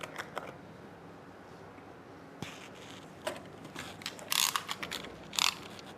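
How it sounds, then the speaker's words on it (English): The cover of a Focus Athena Jet Plus DTG printer is opened, giving a series of close plastic clicks, latch snaps and rattling mechanism sounds in a quiet room. "And we open the cover."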